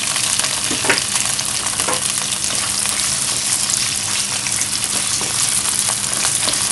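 Squid frying in a pan for adobong pusit, with a loud, steady sizzle and stirring scrapes running throughout, no talk.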